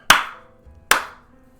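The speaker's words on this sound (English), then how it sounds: "Clap it up, boys." Two sharp, separate hand claps close to the microphone, each a crisp snap with a short decaying tail, spaced nearly a second apart in an otherwise quiet room.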